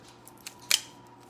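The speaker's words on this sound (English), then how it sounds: "And with kitchen scissors, it can cut really, really nicely." Kitchen scissors make a single crisp snip through keto salad ingredients, faint clicks before it, in a quiet kitchen.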